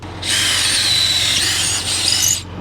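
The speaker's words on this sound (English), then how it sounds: "Drill a test hole." A power drill bores a test hole through a wall, a single loud, high whine lasting about two seconds, with a brief dip partway through, close by and without talking.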